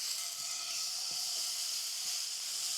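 Meat sizzles steadily in a pan just after being flipped, a continuous bright frying hiss at even loudness with a few faint low knocks underneath.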